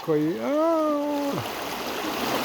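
Shallow stream water rushes and splashes steadily as someone washes their feet in it; a voice sounds briefly at the start, then only the constant watery hiss remains.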